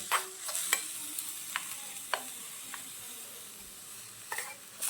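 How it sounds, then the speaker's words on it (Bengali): Raw papaya vermicelli is stirred and fried in a tiny pan in a miniature kitchen, a soft sizzling bed broken by sharp scraping clicks of the utensil at irregular intervals. "হালকা একটু লাল লাল করে দিচ্ছি ভেজে"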